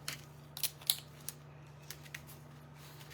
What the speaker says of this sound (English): I'll just cut that little extra off.